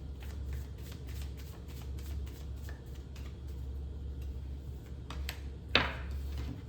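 A deck of oracle cards is shuffled by hand in a quiet room, with soft repeated riffling flicks over a low steady hum and one sharper snap of cards near the end.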